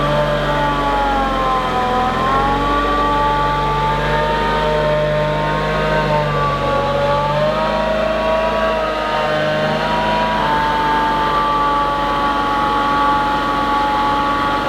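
A Mazda Miata's rotary car engine warms up, idling loudly and steadily, its pitch wavering slightly as it revs gently, with no voices.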